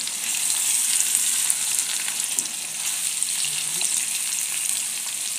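Salmon and asparagus fry in a pan with a steady, close sizzle that holds evenly throughout, with no talking over it.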